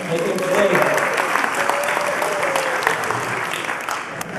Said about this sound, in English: A little clap for little Angus